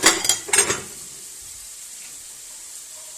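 Chicken sizzles steadily in a hot pan, with a few sharp clatters of utensils at the start before the frying hiss settles.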